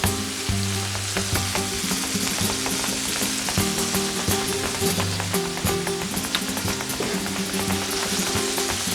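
Chicken and foie paella sizzles loudly in a pan while being stirred, a constant dense crackle with frequent scraping and clicking, under a low background hum.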